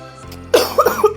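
A person coughs several times in a short, raspy burst, close and fairly loud, with a quiet hum beneath.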